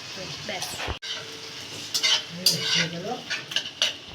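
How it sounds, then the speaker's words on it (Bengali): Cauliflower stalks are stirred and scraped in a pan with faint sizzling underneath, a sharp utensil clatter near the start and uneven stirring strokes after. "এবার ভালো করে এটাকে ভেজে নিতে হবে"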